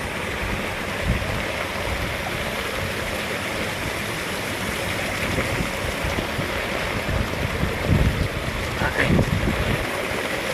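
Strong typhoon wind roars steadily with a broad rushing hiss and low buffeting gusts that thump a microphone, louder near the end.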